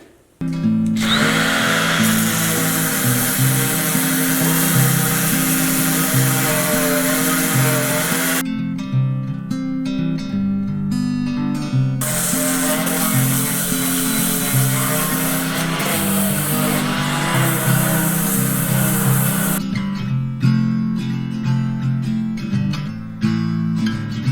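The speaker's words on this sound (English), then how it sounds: "I'm gonna start sanding." A power sander whirs loudly and steadily against a hard surface, sanding a rear bumper for a 1979 Jeep Cherokee, its grinding pitch shifting as it stops briefly and restarts.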